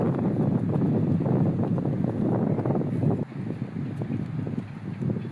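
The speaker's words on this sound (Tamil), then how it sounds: "செம காற்று அடிக்குங்க." Strong wind at Besant Nagar beach roars steadily across the microphone, loud and close, with a dip partway through and surf faintly underneath.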